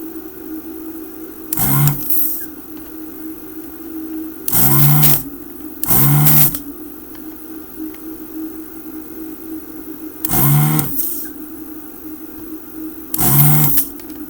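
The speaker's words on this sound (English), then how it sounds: "we're going to desolder this barrel jack, well, the remnants of it" Desoldering station pulling the remnants of a barrel jack off a SEGA Mega Drive II circuit board: five short bursts of vacuum suction hiss, each about half a second long, spaced apart over a steady low background hum.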